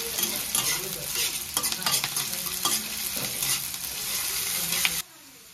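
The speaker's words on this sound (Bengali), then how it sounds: "পেঁয়াজের মধ্যে দিয়ে দিচ্ছি চিনি, দিয়ে ভালো করে পেঁয়াজটাকে আগে লাল লাল করে ভেজে নেব।" Onions with sugar being stirred and fried in a pan for paneer kosa, a steady close sizzle with repeated scraping strokes of the spoon that stop abruptly near the end.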